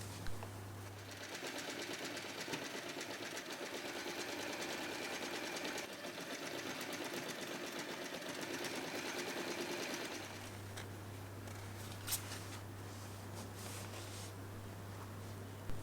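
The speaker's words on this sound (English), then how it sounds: "Then sew across all 4 corners." A sewing machine stitching across the corners of a tote bag, a steady fast close mechanical whir that runs for several seconds, stops briefly, then gives way to a low hum.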